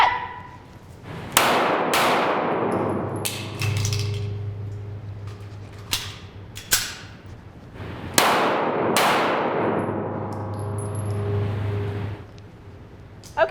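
Handgun shots ring off steel targets during a scan-and-assess shooting drill, several sharp cracks with metallic clangs in two spaced clusters, outdoors and fairly close, with a low idling hum beneath.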